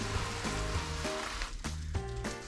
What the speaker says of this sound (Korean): 비가 와서 흠뻑 적시듯이 물을 줍니다.